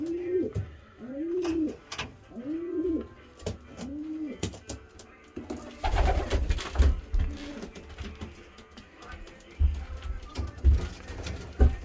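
Racing pigeons coo in a series of soft, rounded calls inside a winter breeding loft, joined by fluttering and shuffling noises as the birds move about close by.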